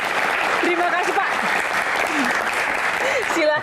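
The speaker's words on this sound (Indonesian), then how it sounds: "Tepuk tangan luar biasa." Sustained audience applause fills a hall at a Constitutional Court Q&A forum, a dense steady wash of clapping that runs loud and unbroken throughout, with a few voices faintly audible beneath it.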